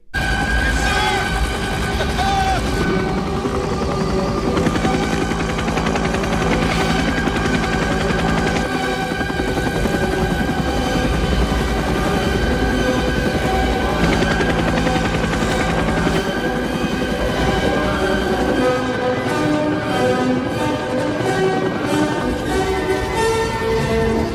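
Helicopter assault from the 1979 war film Apocalypse Now: a dense, continuous roar of rotors with bursts of machine-gun fire, loud and sustained throughout, with a soundtrack and voices mixed under it.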